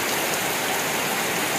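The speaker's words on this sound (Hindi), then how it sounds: "पूरा बारिश गिर गया" Heavy rain pours down in a steady, dense hiss, loud and continuous, with no voices.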